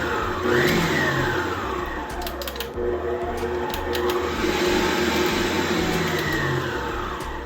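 An electric mixer beating sugar and butter for a Louisiana crunch pound cake, a steady motor whir and spin running continuously at close range with slight shifts in pitch, no talking.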